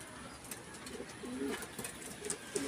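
Racing pigeons coo softly in a low, repeated rhythm against a faint, steady background hiss.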